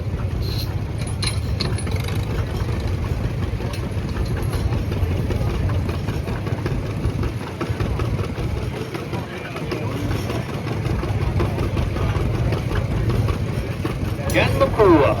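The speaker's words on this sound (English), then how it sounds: "Jen's backing up with her John Deere B." An antique John Deere B tractor at a tractor pulling contest idles and chugs with a steady low engine rumble as it backs up, while an announcer talks over it and crowd noise sits in the background.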